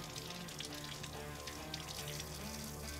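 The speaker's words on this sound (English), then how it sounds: "we're gonna take them out and rinse them" Tap water runs steadily into a sink while salted steaks are rinsed under it, a continuous close splashing hiss with no talk.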